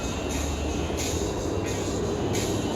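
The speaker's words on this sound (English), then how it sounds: "Those two things that just went up and clicked down, those are the anti-rollbacks." Anti-rollback dogs clacking along the lift hill of the Dare Devil Dive roller coaster at Six Flags Over Georgia, repeated mechanical clicks at steady intervals over a continuous rumbling rattle of the train climbing.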